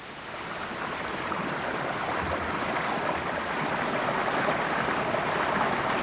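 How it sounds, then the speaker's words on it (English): A small, lacy waterfall trickles in a narrow Nebraska canyon near the Niobrara River, making a steady, broad rushing hiss of falling water that swells slightly and continues without pause. "Nebraska's waterfalls are more like lacy trickles."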